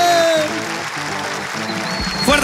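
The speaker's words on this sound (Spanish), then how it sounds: "Fuerte aplauso para ambos" Audience applause breaks out on a variety show stage, a dense clapping wash under music with short whistles, swelling and then fading near the end.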